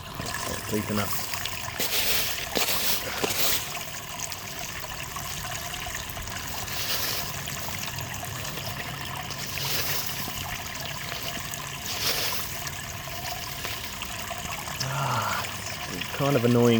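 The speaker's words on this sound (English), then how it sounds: "Sometimes it's easier to just water them in." Water trickles and splashes steadily while plants such as mint are watered in a garden, a continuous soft pour with a few louder bursts, and a person talks over it at times.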